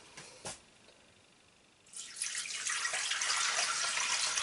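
One liter of water poured into a Thermomix, starting after a short quiet spell with a couple of small clicks, then a steady, hissing splash of pouring liquid that builds and continues to the end, alone with no talk.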